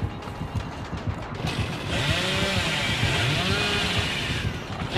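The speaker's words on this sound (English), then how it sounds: "You ain't gonna use that dang chainsaw on my neck, boy." A chainsaw revs in Dead by Daylight, the engine rising into a loud sustained buzzing roar about halfway through and holding until near the end, close and alone.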